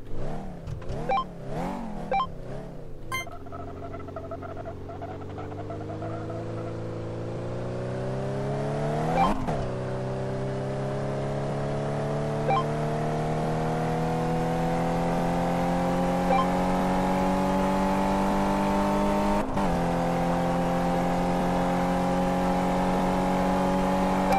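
A 1261-horsepower car in Car Mechanic Simulator 2015 launching on a drag strip, engine revving in quick blips before a long, steady accelerating whine that climbs through gear changes, loud and alone.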